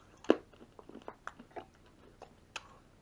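Close, crisp crunching and clicking bites of hard Mentos mints being chewed, with irregular sharp crackles spread over a few seconds and no talking.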